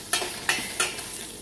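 Chopped onions sauteing in butter make a soft, steady sizzle, broken by three evenly spaced scraping stirs, close and quiet with no voices.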